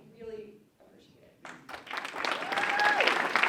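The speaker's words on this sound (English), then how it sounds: "Big round of applause." Audience applause swelling at a Citizens for Responsible Education forum on social and emotional learning, starting faint and building into steady, broad clapping from the room, with a few voices and whistles mixed in.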